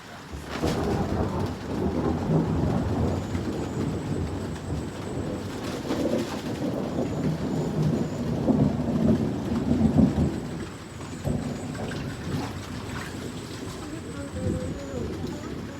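A thunderstorm brings heavy rain pouring steadily on surfaces, with low thunder rumbling and swelling through the middle. Birds call faintly and voices are occasionally heard beneath the downpour.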